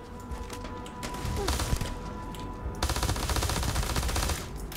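Enemy sniper gunfire in the video game Starfield, with rapid bursts of loud gunshots crackling over game ambience, intensifying into a dense, sustained volley toward the end.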